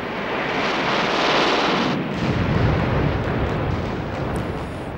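World War I battlefield gunfire and artillery roar as a dense, continuous wall of blasts and rumbling detonations, loud and sustained with no pauses.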